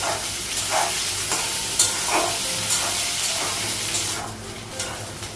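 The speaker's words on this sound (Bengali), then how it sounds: "আলু আর পেঁয়াজটা একটু ভেজে নেব" Potatoes and onion frying in a pan, a steady sizzle with a few soft stirring scrapes, close and continuous, easing slightly toward the end.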